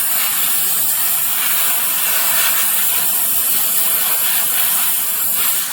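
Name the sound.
compressed air blown to thin a denture reline coat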